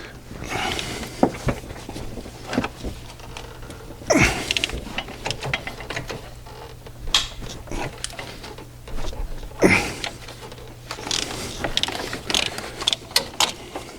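A ratchet wrench loosens the large bolts holding the starter on a Honda Accord, giving repeated close metallic clicking runs between pauses and a couple of louder clanks.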